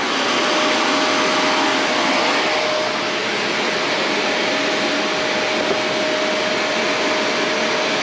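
A vacuum cleaner powered from an Anker Solix C1000 portable power station runs steadily with a loud, even whine and a thin high tonal hum, continuous and close throughout, with no talking.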